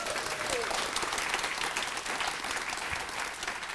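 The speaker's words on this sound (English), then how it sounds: "Give that a round of applause." Audience applause at a Democratic club meeting, steady dense clapping from a crowd filling the room, fairly distant and sustained without pause.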